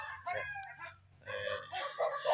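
Gamefowl roosters at a game farm crowing, one long crow near and fairly loud, followed by more crowing and clucks from other birds.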